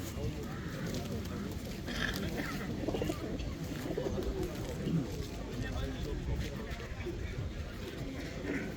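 Pigeons cooing softly amid steady outdoor noise at a poultry and small-animal market in Łomża, Poland, with people talking in the background throughout.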